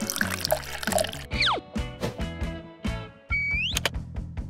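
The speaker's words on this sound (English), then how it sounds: "She prepared a large pot and poured water into it." Water is poured into a large pot in a stop-motion kitchen, with splashy bursts of pouring and dripping broken by short gaps, plus a rising whistle-like tone near the end, close and fairly quiet.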